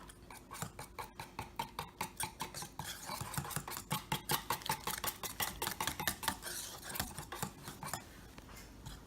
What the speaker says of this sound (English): we're going to whisk that together as well